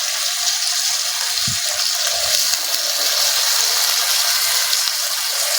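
Chopped tomatoes sizzle in a pan with fried onion and ginger-garlic paste, a steady bright frying hiss running continuously with a few soft low knocks of stirring, close and unbroken, with no talk.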